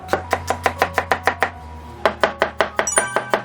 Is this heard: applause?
no